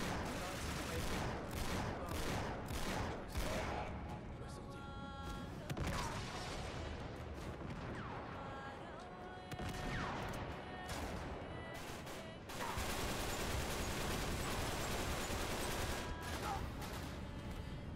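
Gunfire in the video game Uncharted 3: repeated bursts of shots and crashes, loud and dense, with short pauses and a game soundtrack beneath, over about eighteen seconds.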